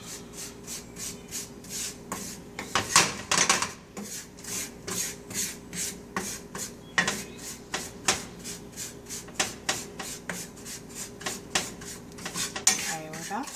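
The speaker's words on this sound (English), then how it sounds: "I'm just going to keep mixing it like this until it all looks dark" Dry ingredients for Southern chocolate gravy are stirred in a pan with a utensil, a steady series of scraping, rasping strokes against the metal in an uneven rhythm, close and fairly quiet, without speech.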